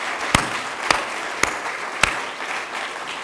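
An audience at a university State of Campus address claps slowly and sparsely, four distinct loud claps standing out over a soft wash of scattered clapping, with no talk.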